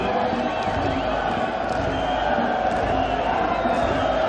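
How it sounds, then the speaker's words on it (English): Crowd at a COSAFA Cup football match between Malawi and Eswatini keeps up a loud, unbroken roar of massed voices, with a drum in the stadium and a commentator's voice faintly under the din. "The crowd have lost none of their energy."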